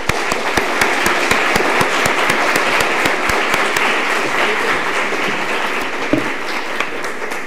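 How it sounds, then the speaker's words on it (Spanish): Loud applause from a university audience greeting the lecturer at a keynote talk on evolution, a dense and steady roar of clapping with a few sharper claps standing out near the front, lasting throughout. "Yo les pido un aplauso"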